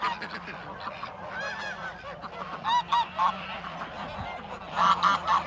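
Geese honk on a goose farm, a flock calling in overlapping, repeated nasal honks close by, with louder bursts of honking toward the end.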